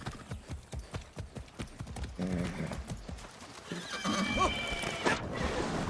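Rhythmic clip-clop of hooves close by, followed by a loud horse whinny rising and falling over continued hoofbeats.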